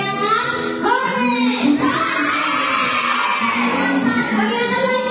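A class of elementary schoolchildren shouting a cheer together, a loud, sustained chorus of high voices close by, rising and fading over a few seconds.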